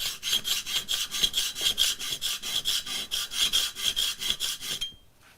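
A hand plane blade being sharpened by hand with rhythmic back-and-forth rasping strokes, about twenty of them, steady and fairly close, carrying a bright metallic scrape. The strokes stop abruptly near the end.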